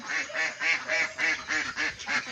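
Ducks in their pen quack close by in a loud, rhythmic series of about eight nasal calls, evenly spaced with little pause between them.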